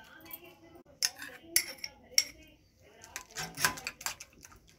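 Eggs being beaten with salt, chopped onion and green chillies in a bowl, a utensil clinking sharply against the sides in uneven bursts, close and fairly quiet.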